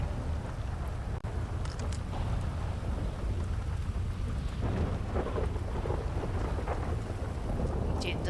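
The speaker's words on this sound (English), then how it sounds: "It does not like thunderstorms," Thunderstorm with heavy rain in a role-play video game, a steady loud wash of rain with low rumbling thunder throughout, with no talk over it.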